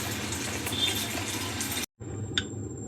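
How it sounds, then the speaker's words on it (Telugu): Water poured into a spiced paste for a Rayalaseema village-style methi oil brinjal curry, a steady close splashing pour that breaks off abruptly, then resumes softer with a brief drip or clink. "మొత్తము పేస్ట్ అంతా వేసుకొని కొద్దిగా వాటర్ పోసి పెట్టుకున్నానండి."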